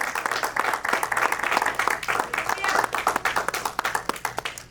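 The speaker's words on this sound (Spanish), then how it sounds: "Dale un aplauso al Rey traqueteado." Applause from a church congregation, dense clapping throughout with a few louder individual claps, steady and fairly close.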